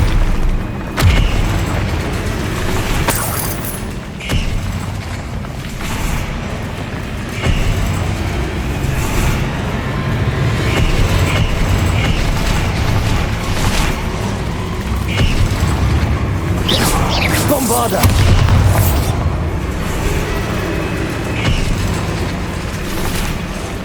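A Confringo blasting spell explodes in the Hogwarts Legacy video game, a loud booming blast over dense, rumbling in-game noise that stays heavy throughout.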